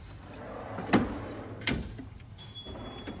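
A metal tool box drawer slides open and shut with two short, sharp rattling clunks close by, followed by a faint scrape.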